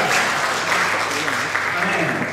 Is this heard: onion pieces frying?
no